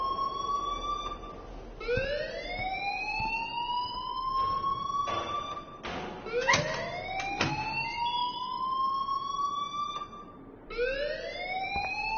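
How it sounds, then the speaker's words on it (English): Rising and falling siren-like wails of an alarm in the video game Life Is Strange, sweeping upward in repeated cycles with clanking and thuds between them, steady and fairly loud, no talk. "please turn off that alarm since that's your job"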